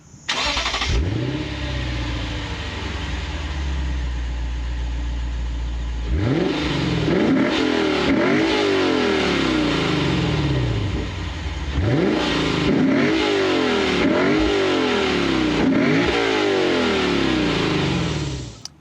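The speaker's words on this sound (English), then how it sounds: "I still love that glorious, naturally aspirated V8." A 2023 Lexus IS 500 F-Sport Performance's naturally aspirated V8 cranks and fires up, settles into a deep idle, then is revved repeatedly in sharp, loud bursts that rise and fall.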